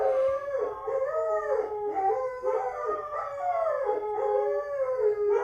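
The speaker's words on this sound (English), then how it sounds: "Sorry about the dogs." Several dogs howl together indoors nearby, their long wavering cries rising and falling in overlapping waves at a steady, moderate volume with no talk.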